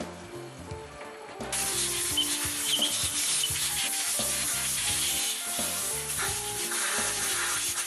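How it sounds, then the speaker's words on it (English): Fuel valve seating surfaces on a MAN B&W fuel valve are ground with a grinding mandrel and number 500 carborundum, giving a steady gritty rubbing and scraping that runs on continuously after a quieter first second and a half, with no talk. "grind the seating surfaces with a grinding mandrel and carborundum number 500"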